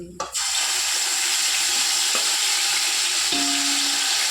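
Water pours steadily into a pot to rinse the leftover masala in, a continuous close splashing rush with a couple of faint clinks, while making smoked chicken tikka biryani.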